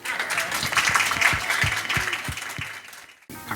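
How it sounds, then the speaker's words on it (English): Brief applause from the audience at a piano concert event, steady clapping for about three seconds before cutting off abruptly. "I think we should all give you a round of applause for that"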